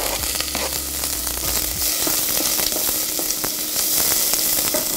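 Shallots fry in a pan, a steady close sizzle with a brief low rumble near the start and scattered small pops and crackles throughout, with no talking.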